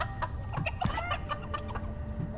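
Chickens cluck in the video game Dungeons 4, a string of short clucks and squawks at moderate level, closely spaced over about two seconds with no talk.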